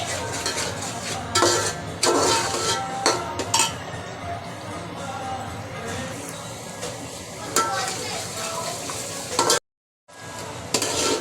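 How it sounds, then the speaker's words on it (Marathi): Ground onion-coconut masala stir-frying in oil for a Marathi-style mutton curry, with steady close sizzling, spoon scrapes and pan clinks throughout, a brief silent gap near the end. "आता हा मसाला चांगला परतून घेते मी."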